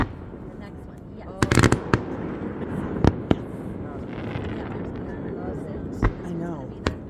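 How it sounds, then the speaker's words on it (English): Small fireworks burst outdoors in a few sharp, separated bangs that ring out with a strong echo, fairly distant, while people chat and react between the blasts. "Those little fireworks? They're so pretty."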